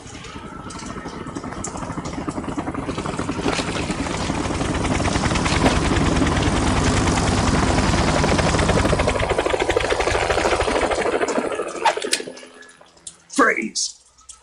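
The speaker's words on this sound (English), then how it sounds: "You will be on the helicopter out of here now." A helicopter in the Metal Gear Solid 2 video game, its rotor and engine rising to a loud, dense, rapidly chopping roar that cuts off sharply near the end, followed by a brief spoken voice.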